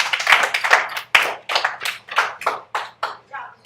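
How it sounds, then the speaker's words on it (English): A small classroom group claps for a student, about a dozen sharp, separate hand claps in an uneven rhythm, close and fairly loud, fading out after a few seconds. "Let's give Hussein a round of applause."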